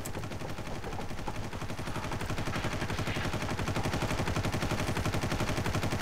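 Rapid, unbroken automatic gunfire in the video game Far Cry, a dense, loud stream of shots lasting the whole stretch without pause or talk.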